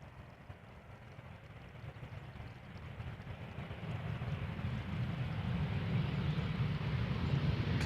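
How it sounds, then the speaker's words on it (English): An Embraer E2 195 jet arriving at Amsterdam Schiphol gives a steady low rumble that slowly swells in loudness as it nears, with no voices. "First up, a regular Embraer 190 and then an E2 Embraer"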